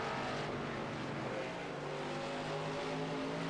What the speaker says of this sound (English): Looks like the 97 trying to use the throttle to get his car to pivot and turn down the straightaway